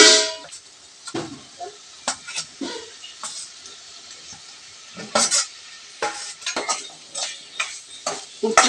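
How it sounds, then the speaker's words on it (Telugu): Jackfruit seeds being stirred with salt and chili powder in a pan for a village-style curry: a spoon scrapes and clinks against the metal repeatedly in uneven strokes, with a light sizzle underneath and no talking. "ఉప్పు కారం బాగా పనస పిక్కలు పట్టిలా కలుపుకుందామండి."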